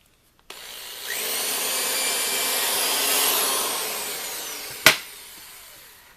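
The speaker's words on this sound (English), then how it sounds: "come down 5/8, drill this hole" A power drill bores a hole into a wooden track tie, a steady whining grind that starts abruptly, holds for several seconds, then ends with a sharp knock and quiet.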